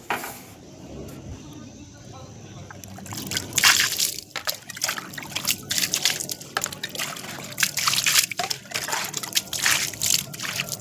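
Water poured outside to wash a doorstep, starting with quiet rustling, then splashing and trickling in uneven bursts close by, with a faint voice in the background.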